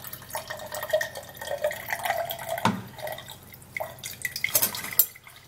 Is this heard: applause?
no